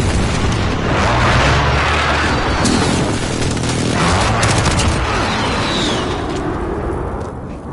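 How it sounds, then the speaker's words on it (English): Friendly precision airstrike in a military shooter video game, a loud continuous barrage of deep booming explosions and rumbling blasts layered with scattered gunfire, dense and close throughout. "Be advised, friendly precision airstrike inbound."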